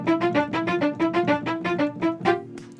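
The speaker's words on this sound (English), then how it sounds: "play it a little bit faster up and down to create that sort of staccato movement" Staccato strings from a sample library, played as fast up-and-down short notes in a rapid ostinato, a brisk run of about a dozen crisp bowed notes with no talking.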